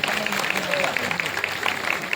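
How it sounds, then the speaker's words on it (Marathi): Sustained audience applause at an orchestra concert, dense and steady throughout with a faint voice or music underneath. "त्यांच्यासाठी आपण एकदा जोरदार टाळ्यांचा गजर करूया"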